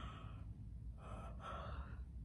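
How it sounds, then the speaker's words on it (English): A woman's soft, breathy yawn with a long drawn-in breath, quiet and close, sounds during a children's bedtime song. "Yawn your sleepies out,"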